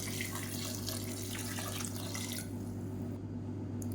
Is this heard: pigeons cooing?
no